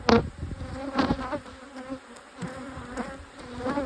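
Honey bees buzzing around an open hive during a hive inspection, a close, uneven drone of wings rising and falling in several swells, with no talking.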